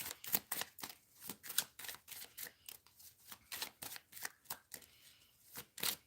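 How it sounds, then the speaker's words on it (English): Tarot cards being pulled and shuffled at close range, giving a run of quick papery riffles and flicks in uneven bursts with no talking. "Let me pull some more cards."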